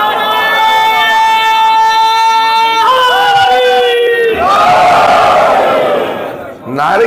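A crowd at a religious gathering raises loud chanted slogans, with long sustained voices rising and falling together, followed by a burst of massed cheering and shouting near the end.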